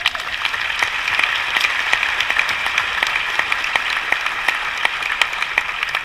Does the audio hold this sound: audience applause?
yes